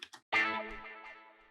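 Layered guitar one-shot samples in a house track: two short clipped stabs followed by a bright, effected guitar chord that rings out and slowly fades.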